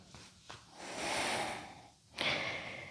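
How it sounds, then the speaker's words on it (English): Slow, close breathing during a spine rotation stretch: a short sniff, then a long airy inhale and a second breath near the end, quiet and with no speech. "Breathing."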